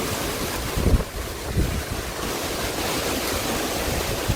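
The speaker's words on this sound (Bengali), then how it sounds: "প্রচুর বাতাস, ঝড় আসতেছে, নদীতে প্রচুর স্রোত, প্রচুর স্রোত, প্রচুর বাতাস হচ্ছে চারিদিকে।" Strong wind before a storm roars steadily across a river with a fast current, buffeting the microphone with continuous, loud broadband rushing and a few heavier gusts near the start.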